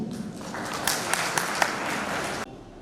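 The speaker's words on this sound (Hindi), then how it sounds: "आप अपने लिए एक बार जोरदार ताली बजा दीजिए" Audience at an oath-taking and honours ceremony in Udaipur breaking into steady applause, dense clapping that holds for a couple of seconds at moderate volume and then cuts off sharply.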